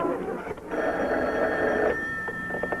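An old-fashioned telephone bell rings steadily for a few seconds, moderately loud and close, with no talking over it.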